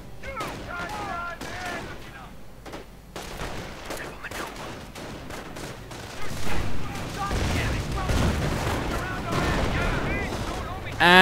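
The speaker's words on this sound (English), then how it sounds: "Getting fired at by the Rangers." Gunfire fills a World War II battle in a video game as American Rangers fire on German Volksgrenadiers: bursts of rifle and machine-gun fire crackle near and far, growing denser and heavier toward the end, with a voice talking over it.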